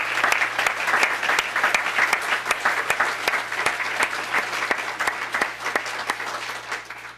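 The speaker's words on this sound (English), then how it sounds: "let's give them a round of applause." Sustained audience applause at a swearing-in ceremony for a town police chief and officers, dense steady clapping from a sizable crowd filling the room for several seconds without pause.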